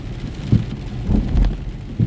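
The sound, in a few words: thunder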